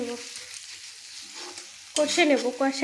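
Cauliflower, beans and carrot tossed into a hot pan and stir-fried, with a soft sizzle that jumps to a loud, crackling burst as the vegetables go in, plus stirring noises.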